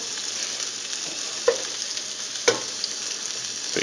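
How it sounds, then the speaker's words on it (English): Bacon sizzles steadily in a pan as a dense, continuous hiss with a couple of sharp pops standing out, close and alone without any voices. "bacon's cooking good."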